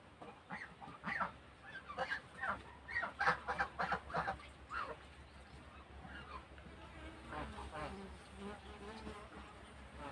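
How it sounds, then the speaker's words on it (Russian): Bees buzz and hum around an apiary, a dense insect drone with rising and falling swells of wingbeats that fade toward the end. "пчелки, покажите нам что-нибудь интересное."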